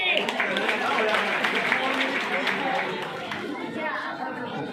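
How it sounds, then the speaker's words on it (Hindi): Loud, sustained applause and clapping from a large crowd at a political rally in Mahendragarh, Haryana, steady for several seconds with crowd chatter mixed in. "जोरदार ताली।"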